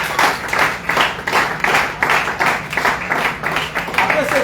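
A church congregation applauds with rhythmic, repeated clapping swells and crowd voices cheering, loud and close, mixed with vocal noise throughout.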